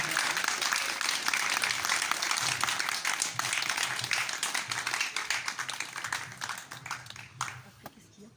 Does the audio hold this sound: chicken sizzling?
no